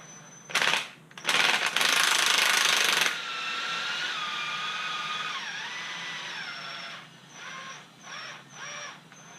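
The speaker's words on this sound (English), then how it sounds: "This is a 19 millimeter on my impact, battery operated impact." A battery-operated impact wrench with a 19 millimeter socket driving a nut onto a double-nutted wheel bolt, two loud rattling bursts then a sustained hammering run, followed by a whining spin-down and a few short bursts.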